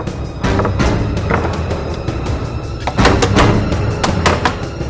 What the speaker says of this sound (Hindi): तो दरवाजा तोड़ देना है मुझे।